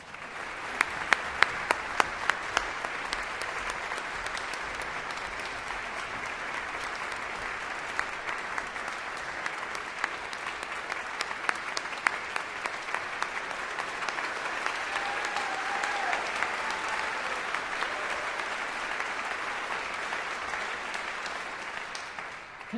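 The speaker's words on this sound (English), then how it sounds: "Would you please welcome back, and don't clap just yet, Damien Arnold, Daniel Carrison, Paul Anthon" A concert audience applauds finalists returning to the stage, sustained steady clapping from a large crowd filling the hall, with a few sharper claps standing out near the start.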